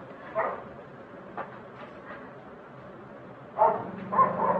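A few short dog barks, one early and a couple more near the end, fairly faint against a low background hum.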